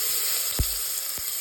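Garlic paste frying in a hot pan, a steady bright close sizzle with two sharp clunks as it is added and stirred.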